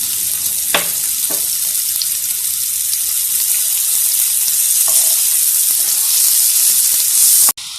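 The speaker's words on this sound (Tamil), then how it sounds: "எண்ணெய் நல்லா சூடாயிடுச்சு. இப்போ இதில் பொடியாக கட் பண்ண வெங்காயம் சேர்த்துக்கிறேன்." Loud, continuous hissing sizzle of finely chopped onions in hot oil in a pan, with a few sharp stirring knocks and a sudden drop at the end.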